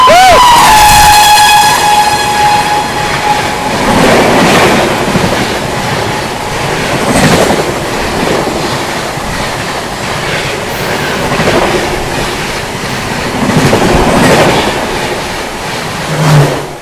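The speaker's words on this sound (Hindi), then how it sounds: "पीछे से अपने अमृत भारत एक्सप्रेस को ओवरटेक करने आती है 22416 आनंद विहार भागलपुर गरीब रथ एक्सप्रेस।" Train 22416 Anand Vihar–Bhagalpur Garib Rath Express overtaking, heard from aboard a stopped or slower Amrit Bharat Express: a loud horn at the start, then continuous rumble and rhythmic clickety-clack of wheels passing close by throughout.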